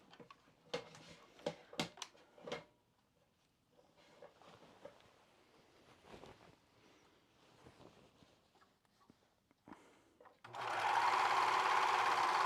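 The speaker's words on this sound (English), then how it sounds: "Now serge or zigzag that same seam." A sewing machine stitches a seam on kite pants, either serging or zigzagging it. Scattered clicks and handling noises come first, then the machine runs loud, close and steady at the end. No talk.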